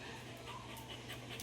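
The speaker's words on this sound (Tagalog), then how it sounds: "Hiningal ka lang." A dog pants steadily after a bout of barking, soft rapid breaths running through the whole short stretch at close range, with faint background noise.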